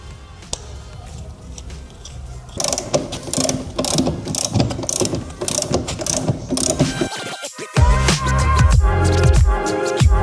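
A ratchet clicks rapidly in repeated bursts, close and loud, with brief pauses between runs of clicking and some metallic clanks, as it torques Sparco racing seat bolts to 25 newton meters in a Mazda MX-5 NA.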